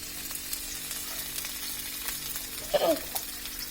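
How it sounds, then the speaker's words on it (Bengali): Chopped onions frying in hot oil in a pan while making a cauliflower, potato and bean curry, a soft steady sizzle with a brief louder burst of stirring near the end, no talk. "পেঁয়াজটা একটু ভাজা হোক।"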